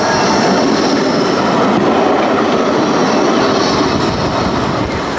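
Tram passing on the Blackpool tramway, a loud close rolling rumble with rail noise and wheel squeal sustained throughout.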